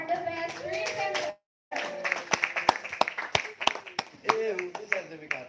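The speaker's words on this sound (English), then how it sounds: "please give our biggest applause for the best presenter" Audience applause for the best presenter, scattered sharp claps from a small group mixed with people talking over it, briefly cut by a gap of silence before resuming.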